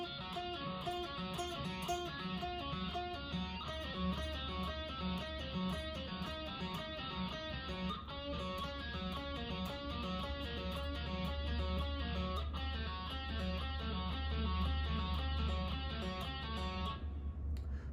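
A distorted electric guitar plays a riff from a Murder Drones metal remix at a slow, deliberate pace, with dense, steady chugging notes over a sustained low drone that cuts off just before the end.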